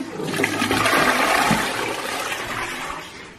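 A toilet in an abandoned villa flushes loudly nearby, a rushing surge of water that swells and then slowly tapers off, with no talking.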